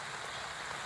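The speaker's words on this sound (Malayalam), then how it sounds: "പുറത്ത് നല്ല മഴയാട്ടോ, പടുതേന്നൊക്കെ നല്ല സൗണ്ട് കേൾക്കാം" Heavy rain drums on a tarpaulin at a mountain camp, a steady, dense hiss with no pauses, heard alone and fairly close.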